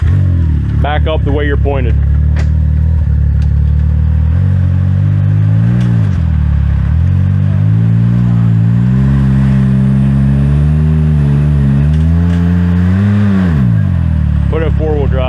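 An off-road vehicle's engine on a rocky trail idles and revs in rising and falling waves, loud and close, with people talking over it throughout.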